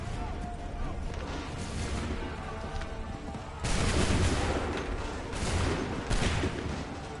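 Musket volleys from Assassin's Creed 3 Remastered: a steady roar of battle gives way to a loud, sudden broadband burst midway and another near the end, with voices mixed in.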